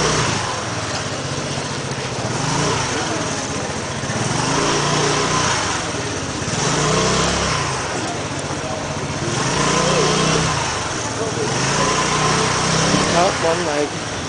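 A moped scooter engine drones steadily while riding, its pitch rising and falling gently under ongoing talk from the rider.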